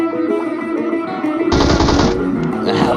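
Automatic gunfire in the mobile game PUBG Mobile rattles in a dense, loud burst partway through, over steady game background noise.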